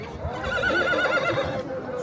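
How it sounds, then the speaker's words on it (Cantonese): An agitated racehorse whinnies loudly and close by at a horse race during the Yi torch festival in Yuexi, Sichuan, a quavering neigh over dense crowd noise. "呢隻馬咁躁動咧"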